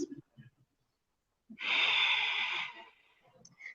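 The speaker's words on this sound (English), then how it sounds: "Try to find your Ujjayi breath, just breathing in and out through your nose" A single long, breathy ujjayi exhale through the nose rushes through for about a second, airy and close, framed by soft brief sounds before and after.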